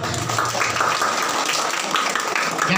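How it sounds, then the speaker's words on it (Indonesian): Crowd applause at a primary school graduation ceremony, dense continuous clapping from many hands, loud and filling the room throughout. "Beri tepuk tangan."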